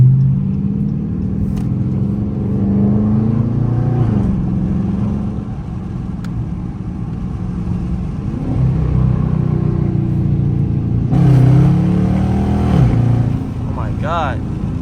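Dodge Charger R/T engine pulling hard through traffic, a deep continuous roar that rises and falls with revving and gear changes, loud and close from inside the car, with a voice talking over parts of it.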